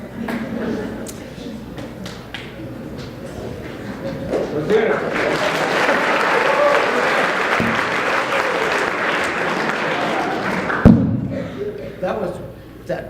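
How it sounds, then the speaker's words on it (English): Audience applause at a college morning meeting before a talk, broad clapping that swells and holds steady through the middle, with a sharp thump near the end, then fades into room noise. "I love how we do applause before the talk"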